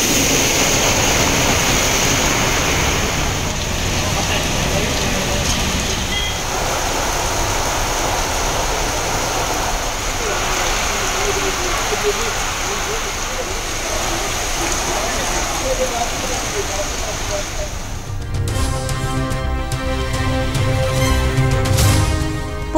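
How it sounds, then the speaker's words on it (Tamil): Heavy rain pours across districts of Tamil Nadu, a dense, loud, continuous roar of downpour that shifts near the end as other sounds enter. "தமிழகத்தின் பல்வேறு மாவட்டங்களில் கொட்டி தீர்த்த கனமழை."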